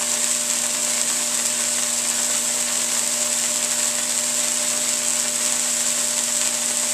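Solid state Tesla coil throwing seven inch arcs, a steady, loud, high-pitched buzzing hiss with a constant hum underneath that runs unbroken throughout.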